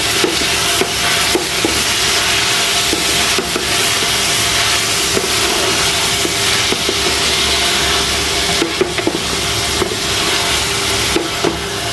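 Vegetable stems are sautéed in hot oil spiced with turmeric and salt, giving a steady, loud sizzle throughout, broken by occasional sharp clicks of stirring against the pan, with no voices.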